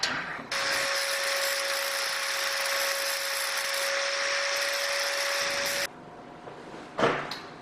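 A grinder working a steel landing gear leg piece for a Bearhawk experimental airplane, a steady loud whine with a sustained tone running about five seconds before cutting off, followed by a brief clank.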